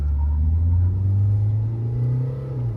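A Mahindra XUV 500 fitted with upsized tyres and alloys pulls away from a standing launch, its engine giving a steady, loud low rumble that rises slightly as it accelerates, with no talk over it.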